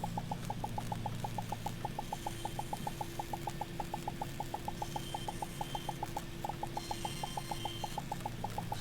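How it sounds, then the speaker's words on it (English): Materials smelting down in the video game Starbound give a rapid, evenly spaced mechanical ticking, like a dot matrix printer, repeating steadily over a low hum for the whole stretch. "smelting down these materials sounds like a dot matrix printer"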